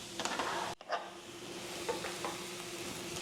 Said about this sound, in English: onions frying.